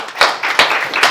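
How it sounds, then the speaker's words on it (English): A small writers' group audience claps at a meeting, a few loud, close bursts of hand claps swelling and fading in quick waves. "big round of applause for Judy, who came up with the theme"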